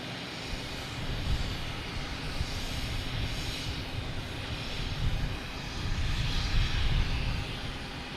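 A Swoop WestJet jet airliner bound for Vancouver takes off at Boston Logan Airport, a broad, fairly distant engine roar that swells and rolls steadily without voices.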